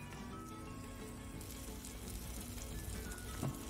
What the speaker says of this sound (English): Now I'm adding half cup curd and sauteing it.